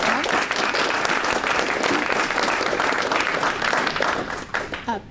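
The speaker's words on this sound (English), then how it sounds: "Let's give another round of applause." A seated audience applauds a conference panel honouring Hal Varian, a dense, steady wash of many hands clapping at close range that tapers off near the end.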